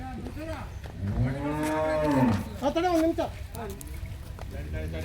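A tall Holstein Friesian (HF) cow offered for sale gives a long, loud, rising-and-falling moo with a shorter call after it, while people talk nearby.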